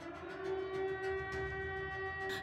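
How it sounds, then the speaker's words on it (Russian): Air raid sirens wail over Zaporizhzhia during a missile attack, a sustained tonal howl with steady pitch bands, heard from a distance at moderate level with no voices. "Школярі займалися під звуки сирен."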